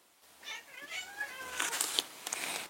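Cats squabble indoors with rising, drawn-out meows and yowls followed by sharper hissing spits and scuffling, a short tense burst of feline quarrelling heard fairly close.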